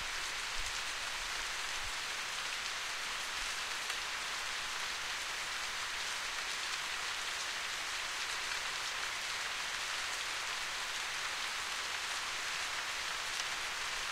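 Steady rain falling in the video game The Path, a soft continuous hiss of drops on surfaces at an even level throughout, with no other sounds.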